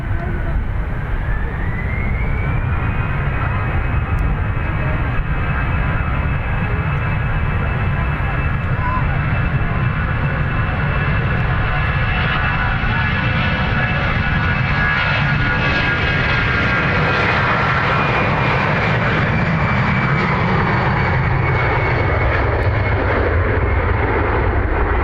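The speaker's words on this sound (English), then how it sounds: "as the aircraft builds up speed down the runway" A jet airliner accelerates down the runway at Dublin Airport, a loud sustained engine roar with a rising whine that swells and broadens as it gains speed, heard from a distance and continuous throughout.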